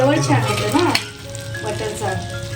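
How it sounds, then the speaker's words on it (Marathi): Garlic sizzles in hot oil and ghee in a pan as the tadka for spinach paneer is made, a steady close frying crackle with a low hum beneath and a brief stir partway through. "लसणाला थोडं भाजून घ्यायचं आपण तेलामध्ये"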